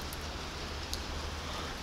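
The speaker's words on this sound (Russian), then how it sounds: "На улице дождичек. Прям такой серьезненький." Steady rain hisses outside a car, a constant wash of drops heard from inside the vehicle. The sound stays even and unbroken, with no talking.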